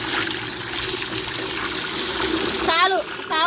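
Water runs steadily into a bucket for compost mixing, a continuous close splashing stream, with a brief chirping sound near the end.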